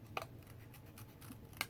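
Scissors cutting out a small paper card piece, with two crisp snips about a second and a half apart over a faint room background.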